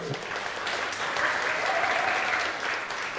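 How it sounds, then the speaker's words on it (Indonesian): A church congregation at a harvest service breaks into brief, dense clapping, a steady close wash of applause lasting a few seconds. "Boleh tepuk tangan dulu?"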